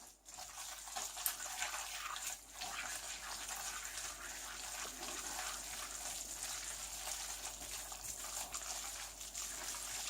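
Starchy pasta water is poured into a pan of spaghetti carbonara with egg and parmesan, a steady quiet trickling and splashing that runs continuously without talk.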